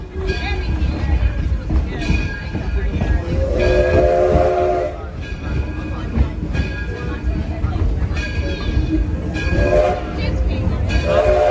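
A 1932 Edison train engine hauls passenger cars between Firestone station and Smith Creek station, with a steady, loud rolling rumble and two long horn blasts sounding over it.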